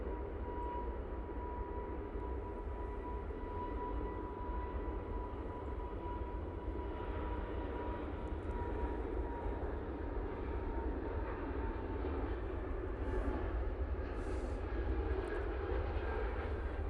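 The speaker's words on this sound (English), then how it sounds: "the EasyJet off to Belfast using their A320neo" An EasyJet Airbus A320neo departing Manchester Airport for Belfast gives a continuous roar of jet engines with a thin steady whine, staying fairly even and moderately distant throughout, with no talk.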